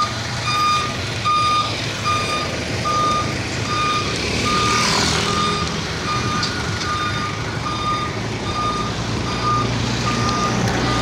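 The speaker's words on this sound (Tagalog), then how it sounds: "Narangan pa nga tayo ng truck." A truck reverses on a street, its backup alarm sounding a steady, evenly spaced beep that repeats loudly over a constant engine rumble and traffic noise, with no talking.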